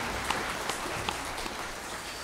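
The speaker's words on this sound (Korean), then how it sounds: "영광의 박수로 하나님께 드리겠습니다." A church congregation applauds during a worship service, a steady wash of many hands clapping with a few sharper individual claps standing out, moderately loud throughout.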